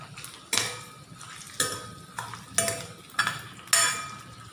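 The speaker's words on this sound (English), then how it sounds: "Let's mix it in oil." Potatoes stirred in oil in a metal pan, the spoon scraping and clinking against the pan in five distinct bursts about a second apart, close and clear over a faint background.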